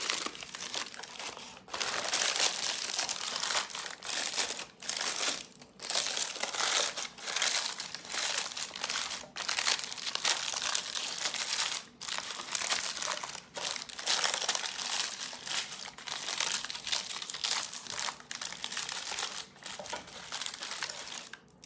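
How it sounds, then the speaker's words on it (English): Sheets of paper crumpled and crushed by hand while making carnivore egg-white bread, a steady close crinkling rustle that runs continuously with short pauses. "You can also just crumble the paper."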